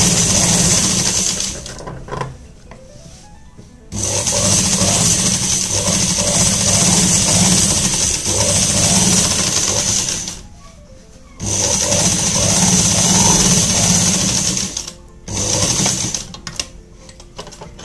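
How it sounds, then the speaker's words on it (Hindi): A sewing machine stitches elastic into the waistband of a palazzo trouser, running in long steady bursts of rapid mechanical whirring with brief pauses between runs as the fabric is stretched. "थोड़ी थोड़ी दूर में हम इसको ऐसे खींच खींच के सिलाई लगाएंगे"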